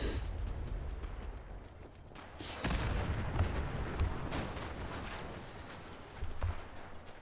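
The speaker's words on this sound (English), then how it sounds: "I almost walked right into that explosion." Explosions in the video game Fallout 76, a few dull booming blasts and rumbles at moderate distance over a constant noisy backdrop, with no talk.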